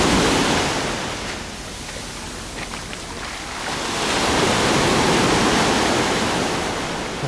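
Steady broadband wash of small waves lapping on the water at a beach in Alanya, swelling gently louder toward the end, with wind noise across the microphone and no speech.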